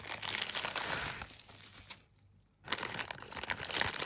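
Plastic packaging crinkling as a Marantz Professional 888M USB condenser microphone and its individually wrapped parts are unpacked, steady close rustling that stops for a brief quiet gap and then resumes.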